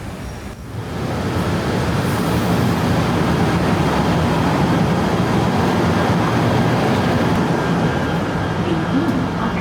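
A train pulls in at a Kuala Lumpur station, its broadband rumble rising within the first second and then holding steady and loud, with no gaps, right to the end.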